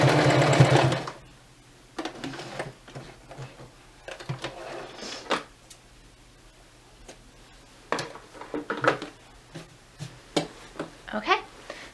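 A sewing machine stitches ties onto a duvet cover in a loud opening burst, followed by intermittent short bursts of stitching and handling clicks, with no one talking.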